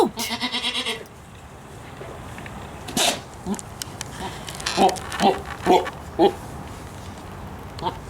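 A billy goat bleats in a series of four short, evenly spaced calls after a brief stretch of voice, with faint background noise between the calls.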